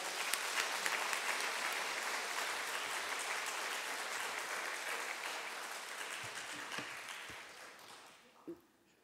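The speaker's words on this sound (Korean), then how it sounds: "강사님이 나오실 때 큰 박수로 맞이하도록 하겠습니다" A church congregation at an evening prayer meeting gives a big round of applause welcoming a speaker, steady dense clapping that holds for most of the span and then fades out near the end.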